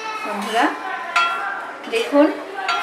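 Chilies fry in a pan while being stirred, giving scraping and clinking utensil sounds in a few bursts over a soft sizzle, close and moderately loud.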